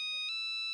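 A phone ringtone in a Hindi TV comedy plays as a steady, bright electronic tone with a short burst partway through, loud and alone with no talk.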